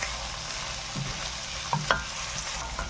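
Garlic and shrimp sizzle in melted butter in a pan as they are stirred, a steady frying hiss broken by a few soft scrapes and clinks of the utensil.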